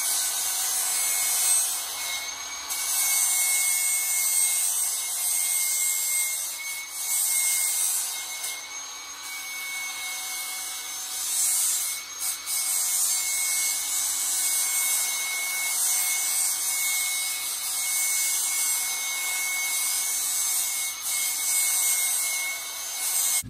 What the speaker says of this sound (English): I can even grind it around the diff cover to make it round on the bottom